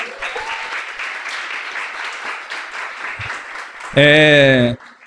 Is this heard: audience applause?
yes